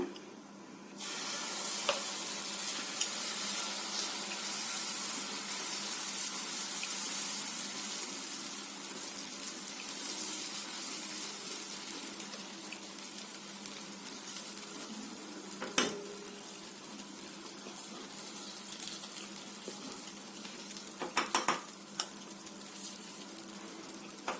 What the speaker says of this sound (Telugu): ఇప్పుడు మనకి పెనం సరిపడాగా వేడెక్కింది మనము దోశ వేసుకుందాం